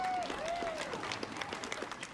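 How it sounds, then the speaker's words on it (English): An outdoor festival crowd claps for the mayor, a scattered round of applause at moderate distance, with a voice or tone briefly audible near the start. "let's give a round of applause for Mayor Couts"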